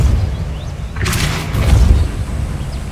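A Repulso spell cast in Hogwarts Legacy bursts out as a sudden bright whooshing blast, then sinks into a deep rumbling boom that fades over a low, steady game ambience.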